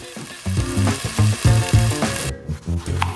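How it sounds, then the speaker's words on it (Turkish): Loud, close sizzling and crackling of spiral-cut potatoes frying in hot oil, continuous with uneven surges throughout. "Şimdi onu kaynar yağda kızartacağım."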